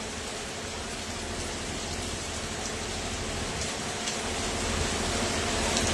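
A downpour of big raindrops falls on School Road in Tapa Mandi as water starts to pool, a constant broadband wash that swells slightly louder toward the end, with no one speaking.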